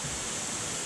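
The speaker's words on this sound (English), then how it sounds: "it's a waterfall up there" A waterfall in South Wales sends up a steady, even rush of falling water, a broad continuous hiss that stays unchanged over a brief moment.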